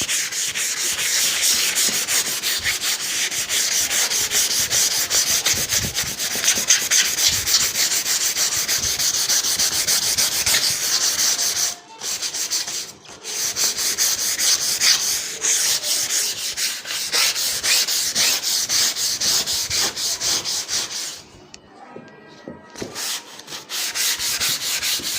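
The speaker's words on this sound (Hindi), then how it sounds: "सैंड पेपर पकड़ के इसको रब करना है अच्छे तरीके से" Sandpaper rubbed by hand across a canvas being prepared for priming for acrylic or oil paint, a close, loud, steady scratchy rasp of rapid back-and-forth strokes with a few brief pauses and no talking.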